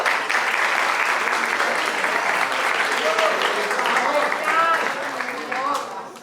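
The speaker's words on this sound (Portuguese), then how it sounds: "Palmas." An audience at a church retreat session applauds, dense clapping running steadily with some voices mixed in before it tapers off at the close.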